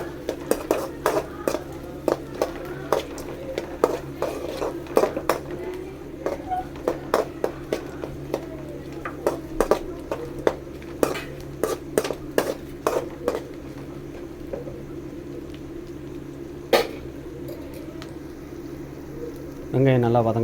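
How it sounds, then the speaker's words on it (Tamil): Small onions being sautéed in a pan for chicken gravy, with a spatula clinking and scraping against the metal in irregular taps over a steady low hum. Only a faint sizzle comes through. "வெங்காயம் நல்லா வதங்கட்டும்."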